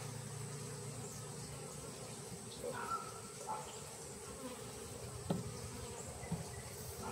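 Low, steady buzzing of many bees inside a hive, muffled and continuous, with occasional faint knocks and light background noise.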